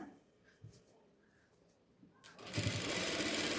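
Sewing machine stitching the seam of a yoke nighty: quiet handling and a few soft taps first, then the motor starts up into a loud, steady whirring run of stitches near the end.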